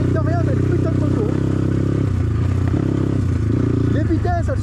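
A BTC T18 motorcycle with liquid cooling and KTM-style fairings idles and runs nearby, its engine a loud steady harmonic drone with faint clattering, while someone talks over it.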